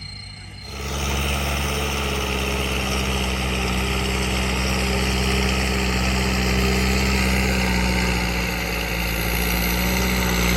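A Kubota L5018SP tractor's turbocharged engine runs steadily up close, a loud continuous low rumble with a whining turbo tone on top, holding constant throughout with no talk.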